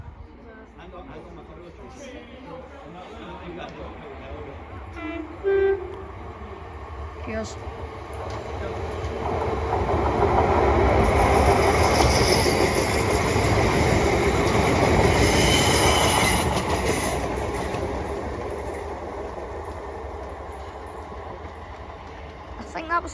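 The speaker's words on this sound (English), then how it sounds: "Here comes a non-stop 380 going to Glasgow Central." A Class 380 electric train runs non-stop through Kilwinning station toward Glasgow Central. It swells into a loud roar of wheels with a high squeal, holds for several seconds, then fades. A voice speaks briefly early on.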